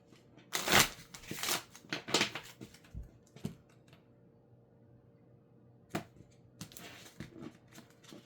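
Quick riffling bursts of cards being shuffled, several crisp flurries separated by pauses and soft taps, close and fairly quiet.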